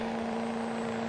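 Chevrolet Silverado LB7 diesel truck engine in a video game, a steady, even drone with a strong constant hum throughout, close and continuous with no talk.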